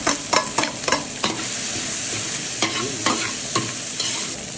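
Garlic, onion and ginger sizzle steadily in hot oil in a pan, loud and close, with repeated scraping stir strokes cutting through the continuous frying hiss.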